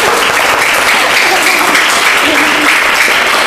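Elementary school pupils and staff at a school event applaud in a loud, continuous wash of dense clapping that holds steady throughout.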